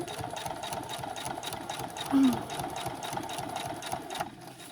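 A sewing machine stitching backpack straps runs in a steady, fast mechanical chatter throughout, close and fairly loud, with a brief bump partway through.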